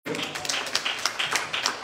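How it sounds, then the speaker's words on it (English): A church congregation clapping their hands during worship, a loose, uneven patter of many hands at close range, steady but not especially loud, with voices faintly mixed in. "Would you clap your hands to the Lord?"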